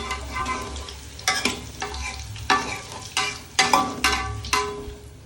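Chopped spices and chillies fry in leftover oil, a steady crackling sizzle broken by repeated scraping strokes of stirring, close and moderately loud with no voices.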